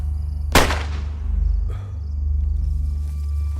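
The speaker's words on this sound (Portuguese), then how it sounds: "decidi arriscar um tiro de Longhorn" A single Longhorn rifle shot in DayZ on the Livonia map, fired across a lake: one sharp loud crack followed by a fading echo and a faint distant report, over a low steady ambient rumble.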